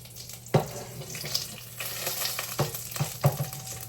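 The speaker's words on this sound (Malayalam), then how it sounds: "നോ ഉള്ളി, കരിവേപ്പില, വറ്റൽമുളക് രണ്ടും കൂടി ഇട്ടു." Onion, curry leaves and dried red chillies sizzle steadily in hot oil for rasam, with a constant frying hiss broken by a few sharp clinks and stirring knocks from a spoon against the pan.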